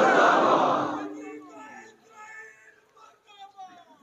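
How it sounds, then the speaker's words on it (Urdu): A crowd at an Ashura gathering bursts into a full-throated chant against America for about a second, then dies away as a single echoing voice carries on speaking. "یہ کوئی نہ سوچے کہ آج 10 محرم کو ہم امریکہ کے خلاف نعرے لگا رہے ہیں"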